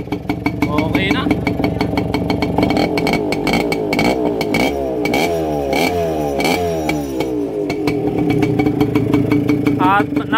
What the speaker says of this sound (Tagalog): Yamaha RS100 2 stroke